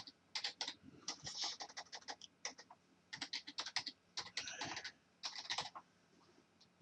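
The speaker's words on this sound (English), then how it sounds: "I'm going to type in my course site's username, and I'm going to type in my password" A username and password are typed on a computer keyboard in quick clustered bursts of crisp keystrokes with short pauses, close and clear with no voices.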